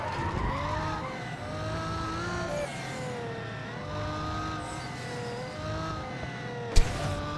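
Engines whine and tires screech in long squealing slides, with a sharp thud near the end, from the racing game Need for Speed Carbon: Own the City on PSP.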